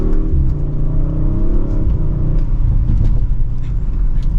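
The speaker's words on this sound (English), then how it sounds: "from second gear, here's a mild acceleration" A 2023 Audi RS5 Sportback pulls away under mild acceleration from second gear, its engine a deep, steady rumbling drone with a rising note, loud and close from inside the cabin.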